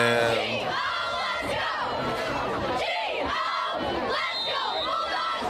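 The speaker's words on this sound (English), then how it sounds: "Crowd is immense on the Bulldog side" Immense home crowd on the Westerly Bulldogs side cheering and shouting at a varsity football game against East Providence, a dense, continuous roar of many voices at steady loudness.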